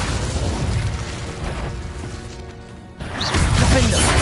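Booming explosion spells cast in the wizarding game Hogwarts Legacy, heavy blasts and crashes layered over continuous game noise, with a fresh burst near the end.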